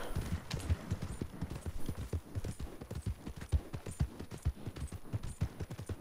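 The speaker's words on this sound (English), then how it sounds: "So this horse is so much slower than the other one I had" Steady clip-clop of horse hooves at a brisk, even walking rhythm in the video game Red Dead Redemption 2, close and moderately loud, with no talking.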